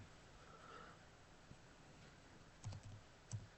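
Someone types a prompt on a computer keyboard, giving quiet, sparse clicks with a couple of sharper keystrokes near the end over a faint room hiss.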